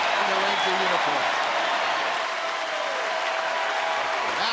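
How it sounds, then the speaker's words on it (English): A ballpark crowd at a Rangers home game gives a standing ovation, with dense, steady applause and cheering from a big crowd that holds loud for the whole stretch, and a voice briefly heard near the start. "Everybody's on their feet applauding the debut of Matt Garza in the Ranger uniform"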